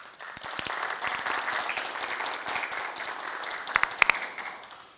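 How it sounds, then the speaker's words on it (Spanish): An audience applauds science journalist Ángela Posada Swafford at a talk, with a full round of clapping that swells, holds steady with a few sharp close claps, then fades. "Un aplauso para ella."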